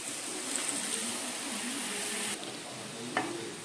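Water poured into jaggery in a kadai makes a soft, continuous sizzling hiss that drops in level partway through, followed by a brief light clink; fairly quiet and close, with no speech.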